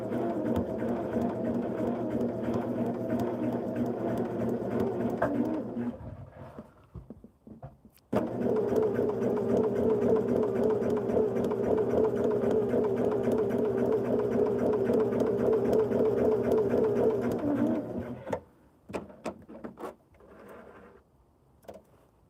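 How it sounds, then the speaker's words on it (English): A sewing machine stitches a quilt block in two sustained runs of steady whirring, close and even, separated by a brief pause and ending with handling clicks. "Turn it over and stitch on that line."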